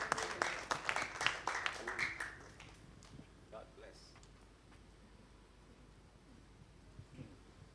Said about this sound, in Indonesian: Sekali lagi kita beri tepuk tangan untuk Tuhan.